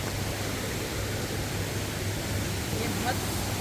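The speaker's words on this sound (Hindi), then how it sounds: "ये बहुत दूर से आ रहा है पानी यहाँ से। आवाज़ इसकी है।" Water rushes steadily in the distance near bamboo and mud cottages in a natural setting, a constant broad hiss without pause.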